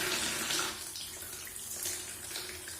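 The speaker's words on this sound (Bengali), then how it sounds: "জল ছেড়ে দিয়েছি" Tap water pours steadily into a bath, a continuous broadband rush with a faint hum beneath, fairly close and alone without any talking.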